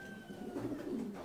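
Pigeons in a loft coo softly and repeatedly, a low murmuring call rising and falling close by, with a faint higher tone fading early on.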